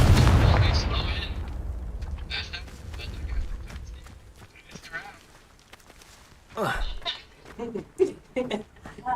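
A Confringo spell explosion in the Hogwarts Legacy video game, a loud booming blast at the start that rumbles and fades, followed by game sounds and a voice talking.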